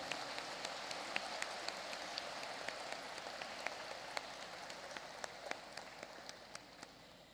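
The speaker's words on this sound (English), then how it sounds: "And let's have an overhead clap." Faint, distant applause from an audience at a school morning prayer assembly for Guru Purnima, clapping with hands overhead, a soft steady patter of many hands with a few sharper individual claps standing out.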